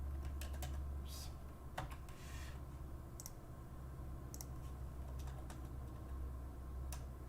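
Computer keyboard typing, quick irregular clicks and taps of keys going on steadily, close and fairly quiet, over a low background hum.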